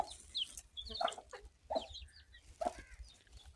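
A chicken clucks in a few short, sharp bursts spaced about a second apart, fairly faint against a quiet background.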